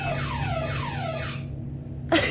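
A car alarm sounds at close range in an office, its wailing tones sweeping up and down repeatedly for about a second and a half before cutting off, followed by a brief sharp burst.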